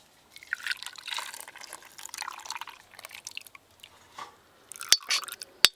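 A coconut pudding mixture is poured into a mould, giving soft, wet pouring and splashing sounds in uneven bursts, close and fairly quiet, ending with a couple of sharp clinks.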